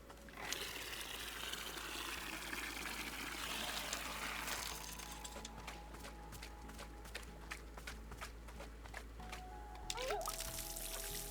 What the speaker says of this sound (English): fill my water can up real quick